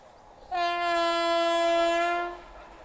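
A passing train at a high-speed crossing sounds a long, steady horn blast of about two seconds, loud and close, starting abruptly and fading at the end, with no voices.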